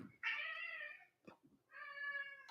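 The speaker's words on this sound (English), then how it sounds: "Oh my God, the cats are fighting." Two indoor cats fighting, letting out drawn-out yowling caterwauls separated by a brief scuffle, fairly close but quiet overall.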